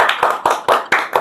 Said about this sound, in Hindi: तो तालियां बजाइए